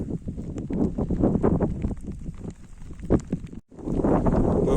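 Steady low rumbling wind buffets the microphone, gusting unevenly with a brief drop-out before roaring back.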